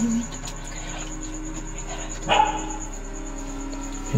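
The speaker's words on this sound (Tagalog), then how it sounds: "Aso yun, aso. Tahol ng aso." A dog barks once at a distance, a short burst over steady outdoor ambience with insects and faint birds.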